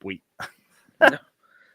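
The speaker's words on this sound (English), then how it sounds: "and then it's my dog barking" A dog gives a few short, separate barks close by, about three sharp yelps with quiet gaps between them.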